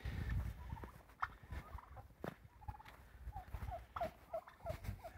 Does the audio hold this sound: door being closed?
no